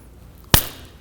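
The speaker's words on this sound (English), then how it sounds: "That's the sound of my face hitting the floor." A single sharp, heavy impact standing in for a face hitting the floor lands loud and close, with a brief decaying tail, preceded by near silence.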